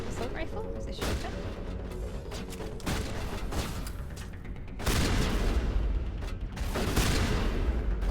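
Shotgun blasts in the Mass Effect 1 video game, several heavy booming shots at irregular intervals amid loud combat noise, close and dense.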